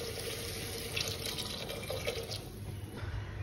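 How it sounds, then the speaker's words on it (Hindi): Water poured into a pressure cooker while cooking, a steady splashing stream running throughout at moderate level with no talking. "दोस्तों पानी डाल दूंगा इसमें।"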